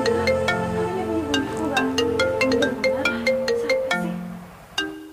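A mobile phone ringtone plays a bright, repeating melodic pattern of quick plucked notes, close and clear. It runs for several seconds and then cuts short.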